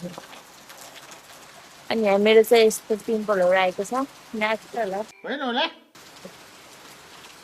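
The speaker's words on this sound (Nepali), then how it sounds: "हेर्नु न साथीहरू, कति ठुलो पानी परिरहेको छ" Steady heavy rain hisses softly in the background while someone talks over it, with quieter stretches where only the rain is heard.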